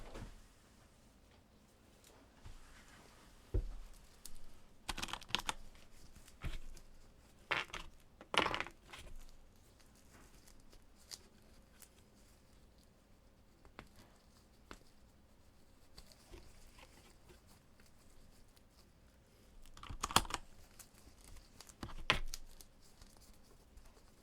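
Computer keyboard being cleaned in a quiet ASMR setting, with sparse close clicks, taps and rattling of keys and plastic parts in irregular bursts over a low hush, no talk.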